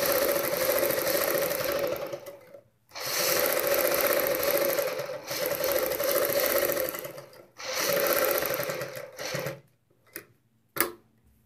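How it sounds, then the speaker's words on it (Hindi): A sewing machine stitches along a marked curve for a salwar bottom design, running in several long steady bursts with short pauses between them, then a few brief stops and starts at the end. "इसी निशान के ऊपर सबसे पहले हम यहाँ पे सिलाई लगाएंगे।"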